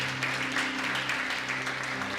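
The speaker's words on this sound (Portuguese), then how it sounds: "Você pode aplaudir ao Senhor Jesus?" A church congregation applauds steadily for the whole stretch, a dense patter of hands with a sustained low tone, likely music, running underneath.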